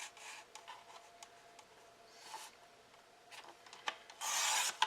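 Paper being cut and torn into strips about 1.5 wide makes soft rubbing and rasping sounds with faint ticks, quiet and close, ending in a louder, brighter scrape.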